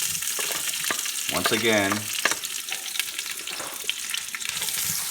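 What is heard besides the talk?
onions sizzling in hot oil for adobo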